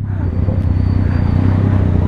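Road traffic noise heard from a motorcycle stuck in a traffic jam, a steady low engine rumble and hum close by with a continuous drone of surrounding vehicles.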